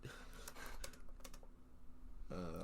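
Someone types on a computer keyboard during a podcast recording, with quick irregular key clicks heard faintly in a quiet room and a voice briefly speaking near the end.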